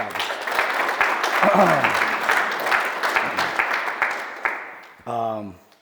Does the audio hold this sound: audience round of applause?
yes